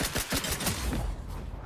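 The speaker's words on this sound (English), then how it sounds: "Lay down fire." Rapid gunfire in The Outer Worlds 2, a quick string of close, sharp shots in the first second that thins out toward the end.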